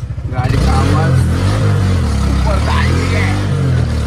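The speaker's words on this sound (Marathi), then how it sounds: "गाडीचा सायलेन्सर फुटलेलं" A motor vehicle engine with a burst silencer rattles and pulses at idle, then swells into a loud, steady, rough drone close to the microphone.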